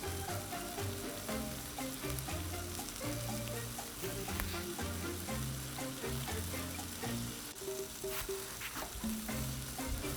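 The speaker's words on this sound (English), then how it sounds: "You can hear the sizzle." Kung Pao chicken sizzles on a 22-inch Blackstone griddle, a loud, continuous crackling hiss that holds steady throughout with no voices.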